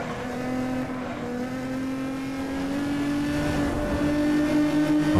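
A Nissan GT-R races in the game Need for Speed Most Wanted, its engine holding a loud, steady droning tone that climbs slightly as it accelerates, with no speech.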